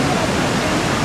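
Steady, dense rushing of water, loud and close, with no pauses, like a fast-flowing river.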